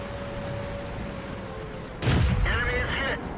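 Tank cannon fire in the World of Tanks video game, a sharp, loud boom about two seconds in followed by a rumbling tail and mechanical whine, set against a steady low game ambience.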